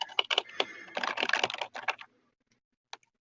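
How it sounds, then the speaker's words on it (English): Rapid clatter of computer keyboard keys being typed, a dense burst of clicks for about two seconds, then a pause and one last isolated tap, close and fairly clear. "I can hear the fucking keyboard click"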